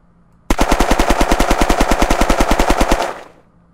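Viper police machine gun in Unturned fires a rapid, evenly spaced burst of about two dozen loud shots lasting roughly two and a half seconds, ending in a short fading tail.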